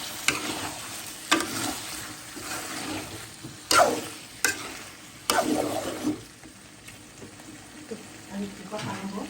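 Taro stolons, potato and cucumber frying in a pan while being stirred: a steady sizzle broken by several sharp scrapes and knocks of the spatula, with a few faint voices in the background.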